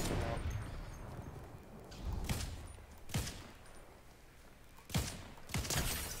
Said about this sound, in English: I sniped him out.